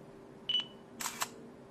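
Symbian phone camera making a short focus beep followed by a quick two-part shutter click, faint and close with a quiet hum beneath, no talk.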